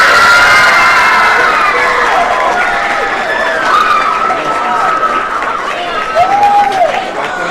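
High school football crowd cheering, whooping and applauding for the homecoming queen and her court, a dense, loud, steady roar of many voices with shouts rising over it.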